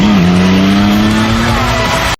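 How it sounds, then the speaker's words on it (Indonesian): Big motorcycle pulling away in an action film scene, a loud steady engine drone with a sustained pitch dominating throughout, no talk. "Dia pun berangkat dengan motor gedenya."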